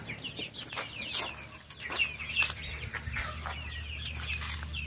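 Chickens and young fowl cluck and chirp around a dry rural farmyard, several birds close by and steady throughout, with no talking.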